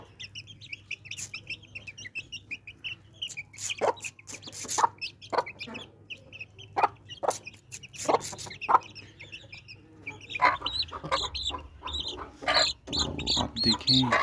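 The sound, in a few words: hen clucking while being fed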